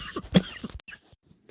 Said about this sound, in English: I nearly coughed myself out of existence.